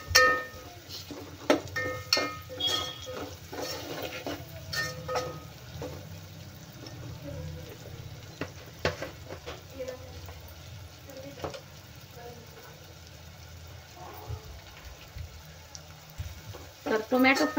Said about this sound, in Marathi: टोमॅटो पण छान तेलामध्ये आपल्याला छान परतून घ्यायचा आहे, म्हणजे तो नरम झाला पाहिजे टोमॅटो पण